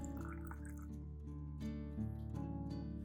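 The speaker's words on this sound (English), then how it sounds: "Finally, I'll pour in 500 milliliters of warm water." Warm water, about 500 milliliters, is poured into a plant-feeding mixture, giving a steady liquid trickle under a loud continuous tonal hum that partly masks it.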